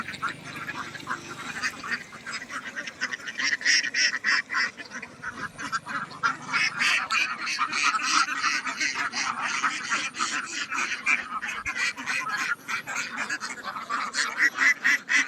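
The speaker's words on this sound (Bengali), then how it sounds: "হাজার হাজার হাঁস এখানে" A large flock of Khaki Campbell ducks on a farm beside a wetland quacks continuously and loudly at close range, with many overlapping calls forming a dense, steady chorus.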